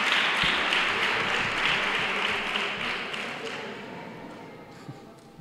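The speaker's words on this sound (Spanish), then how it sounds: "Un fuerte aplauso para él." An audience at a Three Kings coronation ceremony applauds the author of the poster with a dense, steady roar of clapping that slowly fades over several seconds.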